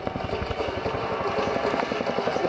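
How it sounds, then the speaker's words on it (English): A Chinook helicopter powers up at the Biggin Hill air show in 2008, its twin rotors beating a loud, steady, rapid chop close by, with a continuous engine roar underneath. "Believe me, that helicopter is climbing very quickly indeed."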